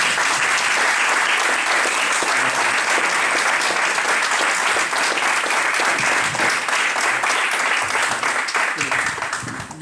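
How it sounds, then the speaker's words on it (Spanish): An audience applauds after a lecture on liberal-era architecture in Badajoz, dense sustained clapping that stays loud throughout before starting to thin out at the very end. "Yo creo que tenemos que empezar aplaudiéndote"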